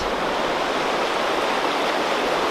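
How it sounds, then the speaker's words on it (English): River rapids in the Oregon Cascades rush in a continuous broadband roar, steady and fairly close, with no other sounds. "there's rapids down that way. And there's rapids that way."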